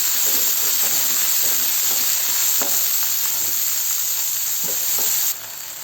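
Broccoli roasting in one to two spoons of hot oil in a pan gives a steady, loud, close hissing sizzle that runs the whole time, with faint scrapes now and then.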